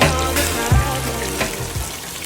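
Steady, dense sizzling and crackling of chicken thighs frying in hot oil in a deep fryer, continuous throughout with a few soft bumps.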